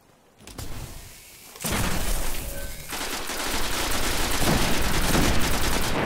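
Gunfire from the Destiny beta PvP multiplayer match, loud and sustained after a quiet start, with heavy bursts and rapid shots running together into a dense barrage.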